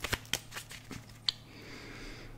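Tarot cards are handled and drawn with a few crisp snaps and flicks, then a brief shuffling rustle. The sounds are close and sharp against a quiet room, with no voices.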